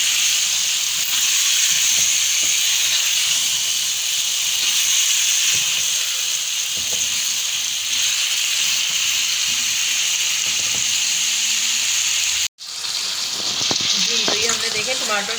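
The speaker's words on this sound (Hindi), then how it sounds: "जी तो ये हमने देखे टमाटर के साथ आलू को अच्छे तरीके से सौते कर लिया है।" Potatoes sautéing with tomatoes in a pan, giving a steady loud sizzle and hiss for most of the time, briefly cut off near the end before the frying noise returns.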